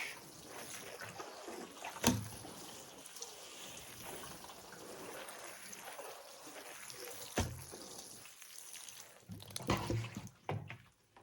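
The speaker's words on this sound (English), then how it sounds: "Let's give our other little trays here some water." Seedling trays being watered indoors, with a soft, quiet trickle and splashing running throughout, plus a few louder handling knocks near the start and toward the end.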